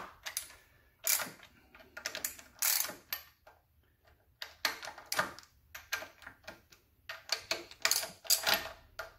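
A torque wrench ratchets in short, sharp bursts of clicks while snugging the flywheel bolts on an MGB engine, the clicking close and crisp with brief pauses between pulls.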